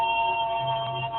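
A mobile phone rings indoors during a CorelDraw X7 class, a steady electronic ringtone at moderate level filling the whole moment without speech.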